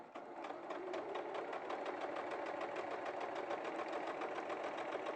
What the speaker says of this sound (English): And then just sew down the other side.